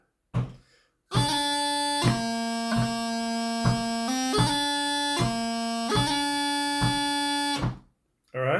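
Bagpipe chanter plays a phrase of the tune High Road to Gairloch, a steady buzzing reed melody with grace-note articulations, heard alone for about seven seconds between short pauses.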